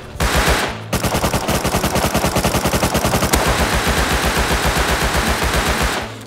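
Rapid automatic MP5 fire in the game Rust, loud close bursts of evenly spaced shots with a short gap near the start, then sustained fire to the end.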